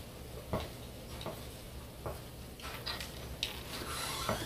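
Ground turkey frying in a pan, a steady low sizzle running throughout, broken by a few soft scraping stirs of a utensil against the pan, close and fairly quiet.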